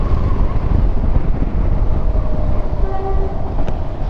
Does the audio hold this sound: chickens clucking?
no